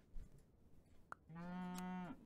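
A cow moos once in the Super Auto Pets video game, a loud sustained harmonic bellow lasting about a second, preceded by a short blip and faint game sounds.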